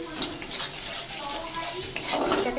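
Spices and salt fry in oil and are stirred, giving a constant close sizzle with brisk scraping of a spoon on the pan and no voices.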